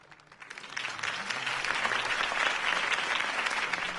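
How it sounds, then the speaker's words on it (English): Applause from a large crowd swells in after a quiet start and holds as a dense, steady roar of clapping, at a campaign speech in the video game Batman: The Telltale Series. "could have heard that applause"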